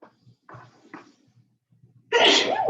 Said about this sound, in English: Sneezed into my arm.